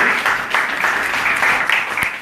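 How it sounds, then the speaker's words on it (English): An audience at a Sunday Hare Krishna spiritual talk breaks into a warm round of applause, dense and steady clapping filling the room close by for a couple of seconds. "Let's give her a round of applause."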